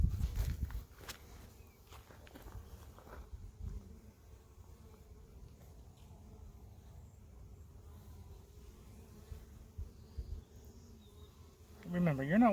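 Honeybees buzzing at a hive entrance ramp, a faint steady hum under handling noises and light rustling, with a louder close bee passing near the end.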